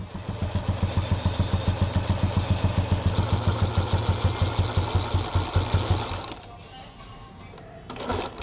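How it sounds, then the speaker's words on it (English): A village water-jet turbine spins a salvaged motorcycle dynamo, giving a fast, steady mechanical chugging like a small engine that runs evenly for several seconds, then cuts out to a quieter background. "The technology uses a water jet and a waste motorcycle dynamo."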